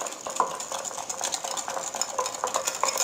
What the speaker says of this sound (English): Then I'm going to whisk this all together.